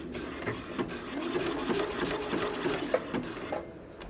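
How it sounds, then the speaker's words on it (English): Sewing machine stitching a lace overlay along a scalloped edge of lingerie fabric, a steady close whirring hum with rhythmic needle ticks running for a few seconds before slowing and stopping. "going to sew along the scalloped edge as close as I can without going over the edge"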